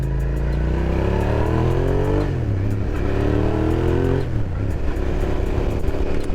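A 2003 Suzuki SV 650S sport motorcycle engine accelerates hard and close, its throaty note climbing through the revs, dropping at each gear change around two and four seconds, then rising again, loud and steady without any talk.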